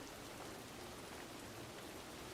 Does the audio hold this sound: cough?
no